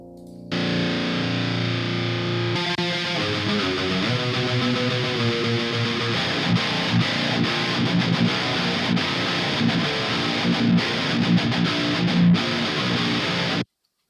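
Electric guitar runs through an old JST Menace amp simulator plugin, giving a thick, fuzzy distorted tone as sustained chords and riffing play continuously at steady loudness before stopping abruptly.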